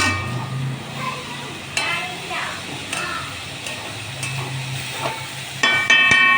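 A spoon stirs and turns a thazhuthama greens stir-fry in a pan, making intermittent close scraping taps and clicks over a faint, soft sizzle.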